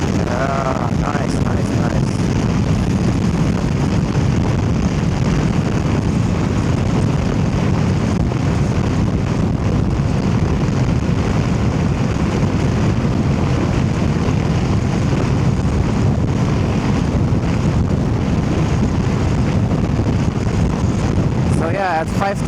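A Suzuki V-Strom 800DE fitted with a DNA air filter cruises at about 5,000 RPM, its steady engine drone close and loud beneath heavy, continuous wind rush.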